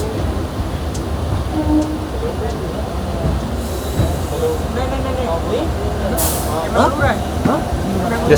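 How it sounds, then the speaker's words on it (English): The 12134 Mangaluru Mumbai Superfast Express pulls out of the station with a continuous close rumble of wheels and carriages, occasional squeals and brake hiss, and passengers' voices mixed in. "Just as the train was exiting the station"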